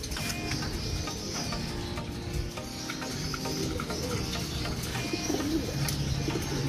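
Racing pigeons coo steadily through a loud, busy loft, the soft repeated calls blending into dense background noise for the whole stretch.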